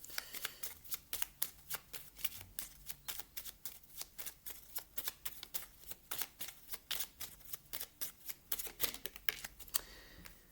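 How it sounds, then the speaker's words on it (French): Tarot cards are handled and shuffled to draw a card, a rapid run of crisp, close riffling flicks and taps going on steadily, quiet and without talk. "je vais vous prendre une dernière carte"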